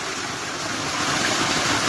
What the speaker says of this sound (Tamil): பார்த்தீங்களா தண்ணி போயிட்டுருக்கு.